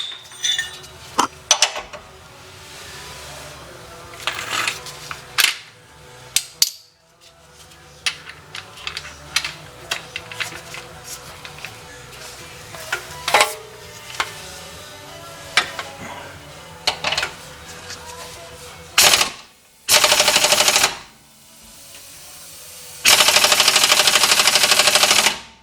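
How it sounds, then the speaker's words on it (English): Impact wrench working the 18 mm rear lower control arm bolts on a 1986 Mustang GT, loud rattling bursts of varied length in a garage, the last two long and steady with short gaps between them. "We're going to get an impact on it."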